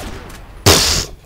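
A gunshot in the video game Combat Arms, a single loud, sharp burst that cuts in suddenly and rings briefly before fading, with no talk over it.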